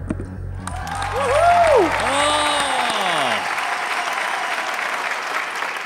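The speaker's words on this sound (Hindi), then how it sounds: "मेरी ताली की गूंज बहुत दूर तक जाएगी।" Applause from a judge and studio audience on a televised singing competition, a broad sustained wash of clapping that runs under a sung or spoken phrase early on and continues steadily to the end.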